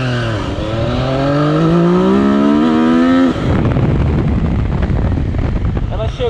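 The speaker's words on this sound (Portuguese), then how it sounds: "O giro que arranca forte na Tracer." A Yamaha Tracer 900GT motorcycle accelerates hard, its engine note climbing steadily and loudly for about three seconds before giving way to heavy, roaring wind rush as speed builds.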